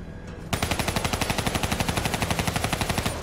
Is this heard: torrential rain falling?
no